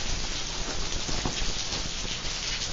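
Small waterfall pouring down in the woods, a steady dense rushing and splashing hiss that stays even and close throughout with no voices.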